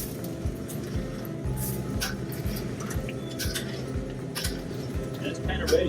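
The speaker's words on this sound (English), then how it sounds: "We're just going to give it a quick stir." Metal spoon stirring a herb stew with sage in a pot, a scatter of irregular clinks and scrapes against the pot, close and moderate in level over a busy kitchen background.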